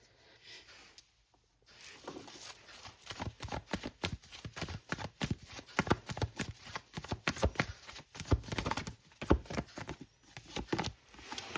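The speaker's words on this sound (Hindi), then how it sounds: "एक बार फिर से शफल करेंगे हम" A tarot deck is shuffled by hand nearby, with rapid, uneven bursts of card riffles and slaps following a short pause.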